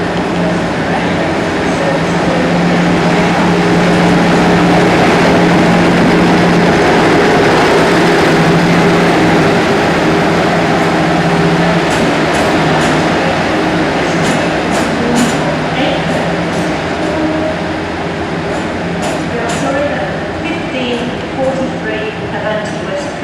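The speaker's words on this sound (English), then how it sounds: "The next train to arrive at platform 11 will be the 1558 London Northwestern Railway." A London Northwestern Railway train rolls into a station platform with a steady low rumble and faint wheel clatter, while station announcements play over it.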